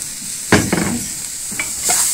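Onion dropped into a hot pan for a Moroccan bird's-tongue pasta soup sizzles steadily, with a few sharp clattering stirs and scrapes breaking through the close frying hiss.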